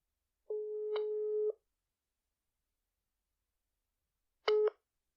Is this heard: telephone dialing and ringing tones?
yes